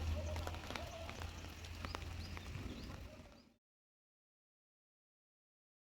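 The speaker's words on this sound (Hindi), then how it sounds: "ऐसे ही बारिश हो रही थी और अभी भी हो रही है।" Cold winter rain falls steadily in the early morning, a dense even patter with faint scattered background sounds, then cuts to silence about halfway through.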